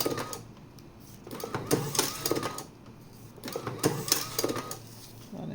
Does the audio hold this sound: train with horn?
no